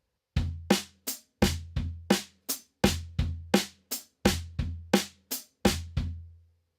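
A drum kit plays a slow samba foot pattern with the right hand on the offbeat. Sharp, close strikes fall in a regular, repeating pattern. The low bass-drum thumps ring briefly, and there is silence between the hits.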